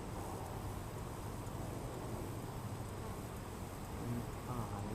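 Honeybees from two new hives hum in a dense, continuous drone close to the microphone during a hive inspection, steady throughout with a faint rise near the end.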